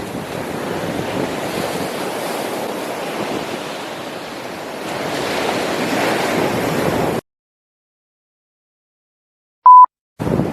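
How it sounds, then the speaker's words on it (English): Steady wash of sea waves and gusting wind at the British seaside in Great Yarmouth, a continuous broadband roar buffeting the microphone for about seven seconds before cutting to near silence and a brief tone. "The Great British Seaside."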